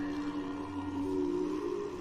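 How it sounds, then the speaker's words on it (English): Dog seals from the animated series Avatar: The Last Airbender let out sustained, tonal, wailing calls with a steady low hum beneath, a continuous moderate-level cry lasting a couple of seconds with no talk. "Dog seals."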